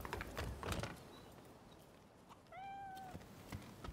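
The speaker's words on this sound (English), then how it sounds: "I heard a cat." A cat gives a single short meow in Rise of the Ronin, fairly faint amid a ticking, ratcheting mechanical background with scattered clicks.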